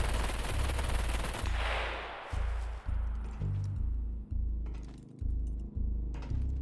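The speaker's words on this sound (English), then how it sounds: "Let's see what happens when we use armor piercing." Armor-piercing rounds fired at a turret in the video game SCUM: a long, sustained burst of rapid automatic gunfire at the start, then a series of short, repeated bursts with brief pauses, loud and close with no talk.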